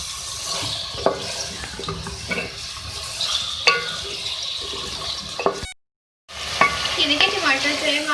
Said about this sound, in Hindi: इसको इतना फ्राई करना है कि ये नरम हो जाएंगे टमाटर